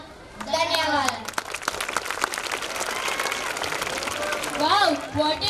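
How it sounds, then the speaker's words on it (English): Audience applause and clapping after a performance at Rimzhim 2022, a sustained dense roar of hands with a voice speaking over its start and end. "Give them a big round of applause."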